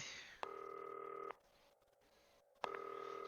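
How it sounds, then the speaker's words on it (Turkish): A telephone in the video game Not For Broadcast, with two long steady electronic tones separated by a quiet gap, clean and fairly faint. "Telefon açıyoruz."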